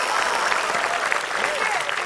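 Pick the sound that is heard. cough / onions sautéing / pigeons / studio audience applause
studio audience applause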